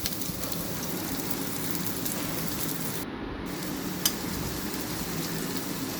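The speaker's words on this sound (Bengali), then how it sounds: "এটা এখন 2 মিনিটের জন্য আমি ভেজে নিব" Egg and potato frying in oil in a pan, a steady soft sizzle and crackle continuing evenly throughout at moderate volume.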